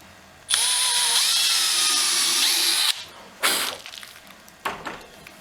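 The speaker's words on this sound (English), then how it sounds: "And we'll drill the first hole." A power drill whirs steadily for about two and a half seconds, drilling a hinge hole in a solid wood door, its pitch shifting slightly as it bites, followed by a few short bursts of clatter.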